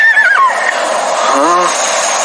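A horse lets out a loud, close whinny that falls in pitch at the start, followed by a shorter, lower neigh a moment later against a steady background.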